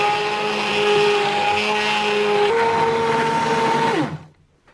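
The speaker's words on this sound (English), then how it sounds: "now I'm going to blend it with my stick blender" Stick blender whirring through a cauliflower and leek soup with sour cream and cream, a loud steady motor whine that shifts pitch slightly mid-blend, then winds down and stops.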